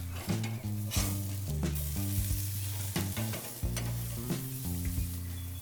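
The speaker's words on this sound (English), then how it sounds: "Right around 4 minutes later, it is time to flip the Dad Burger." Large beef burger patty sizzling on a Weber grill, a steady frying hiss broken by sharp scrapes and knocks as it is flipped, close and fairly loud with no speech.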